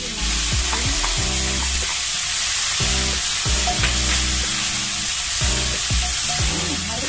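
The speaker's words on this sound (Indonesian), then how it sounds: "Oseng sampai agak kering gitu ya." Mushrooms and garlic being stir-fried in a hot pan, loud continuous sizzling with repeated scraping strokes of a spatula at an irregular rhythm throughout.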